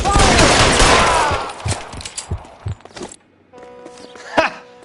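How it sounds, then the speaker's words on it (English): Covering gunfire in the L.A. Noire crime game, a loud rapid burst of shots that fades into a few scattered, quieter reports amid background noise and a brief tone. "Covering fire!"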